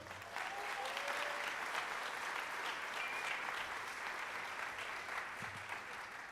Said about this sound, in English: give her a big round of applause, Ms. Laura Crane for organizing this evening